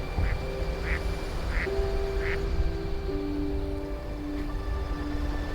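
A huge flock of ducks circling over an Idaho cornfield, quacking steadily in a dense far-off chorus, with a few sharper calls standing out above constant wind and rushing background noise.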